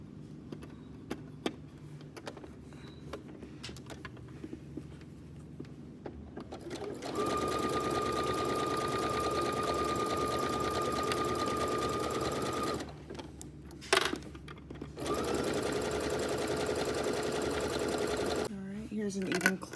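A sewing machine runs an exposed zigzag stitch along a fabric edge, its steady motor hum continuing for long stretches with a short pause midway, after lighter handling noises at the start.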